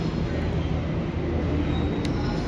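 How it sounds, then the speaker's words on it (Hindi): A Delhi metro train rolls along with a steady interior hum and rumble, a brief faint squeal near the end and no clear talk. "भाई मेट्रो मेट्रो में जा रहे हैं"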